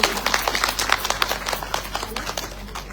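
An audience claps loudly, a dense and steady round of many hands with no voices standing out.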